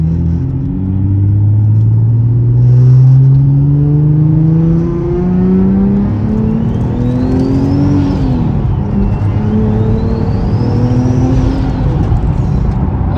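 A rear-mounted-turbo Nissan 370Z engine revs up steadily under load to about 5,000 RPM, its pitch climbing in a long pull before easing, loud and close with a constant rumbling drone.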